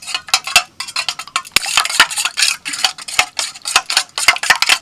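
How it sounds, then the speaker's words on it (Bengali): Two raw eggs with a little salt being whisked in a bowl, a fast run of sharp, bright metallic clicks and taps against the dish, loud and close, in uneven bursts. "দুটো ডিমকে ফেটিয়ে নেব।"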